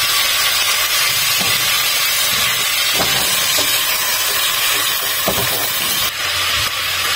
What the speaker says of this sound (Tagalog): At haluin na lang natin.